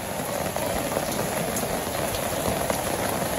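Light rain falls in a Bangladesh village, a steady close patter of drops hitting surfaces with no voices, even and continuous from start to finish.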